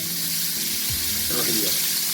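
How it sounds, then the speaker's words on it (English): Cut vegetables hit a pot of hot oil while brown stew fish is cooked Jamaican style, giving off a loud, steady sizzle and crackle as voices talk nearby. "so you're pouring the vegetable that you cut up"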